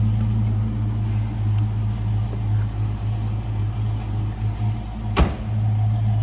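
1991 Ford Mustang LX convertible engine idling and running, a steady low rumble with a strong hum, interrupted once by a sharp brief click or knock near the end.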